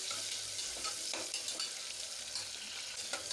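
Sliced onion and mint leaves frying in hot oil for pudina rice bath, a faint continuous sizzle broken by a few soft stirring scrapes.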